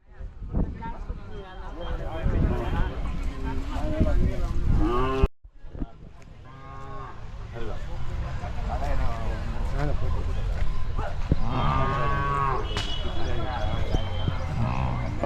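Cows low at the Magadi cattle fair. Occasional moos rise from a busy, noisy crowd, with people talking throughout and a brief sudden gap partway through.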